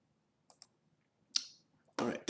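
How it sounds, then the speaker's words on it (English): A computer mouse clicks twice quickly in a quiet room, followed by a few louder, sharper noises close to the microphone. "We click on that line there and simply click the text box."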